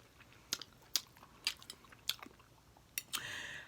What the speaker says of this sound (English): I apologize for the smacking